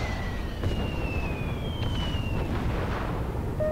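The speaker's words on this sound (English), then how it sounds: "I'm going to call an airstrike just right here" Airstrike explosions rumble in the MechCommander 2 strategy game, a dense low roar of continuous blasts with faint high tones sliding across, loud and sustained with no voices.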